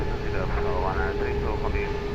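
An airliner's engines roar steadily at Lisbon Airport during takeoff, a loud continuous hum heard from a distance, with a radio voice talking over it.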